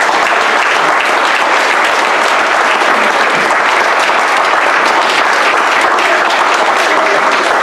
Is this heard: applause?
yes